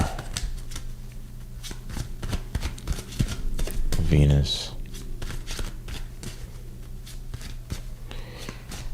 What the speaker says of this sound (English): It's quite a bit of a shuffle.